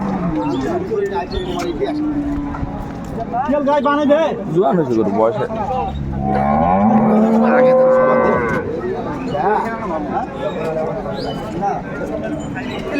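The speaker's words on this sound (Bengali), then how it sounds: "গাভি বাছুর আমরা দেখছিলাম" Dairy cows and calves low at a busy cattle market in Dinajpur, with a drawn-out moo standing out midway among people talking nearby.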